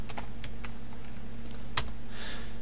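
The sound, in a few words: typing a number on a computer keyboard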